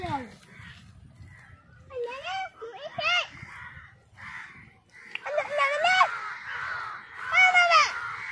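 Crows cawing beside a river in a Sundarbans village, harsh repeated caws in short bursts, fairly close, with a voice and other talk mixed in.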